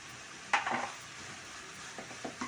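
Ginger garlic paste is stirred in a hot pan, giving a quiet sizzle with a sharp spatula scrape at the start and a few soft taps toward the end.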